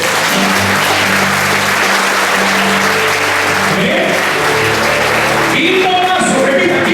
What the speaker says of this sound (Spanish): Aplauda del Señor